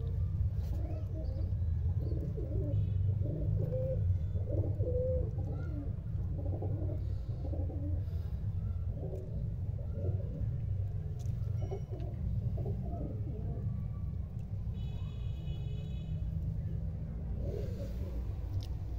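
Pigeons coo in soft repeated throaty phrases through the whole stretch, close by over a low steady background rumble.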